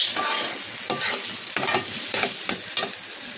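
Halwa frying in ghee after the water has cooked off, with a continuous close sizzle and repeated spatula scrapes falling in an irregular rhythm, no voices.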